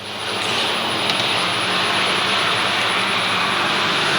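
Limited Sportsman race cars roaring along the back straightaway of a short oval speedway, a loud continuous engine drone that swells and holds, with no voices over it.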